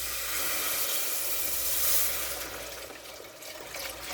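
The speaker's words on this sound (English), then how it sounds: "we're going to go ahead and add 2 cups of our Homestead home canned chicken broth." Home canned chicken broth pours steadily into a thickened soup base for low carb chicken and dumplings, a close, continuous liquid hiss and splash that holds level for about two seconds, then eases slightly.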